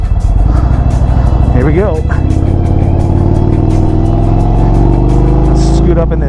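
A 2025 Indian Springfield Dark Horse motorcycle engine pulls away and accelerates, its loud, steady drone rising in pitch through the gears, with someone talking briefly over it.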